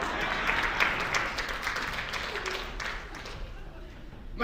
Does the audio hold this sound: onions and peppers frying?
no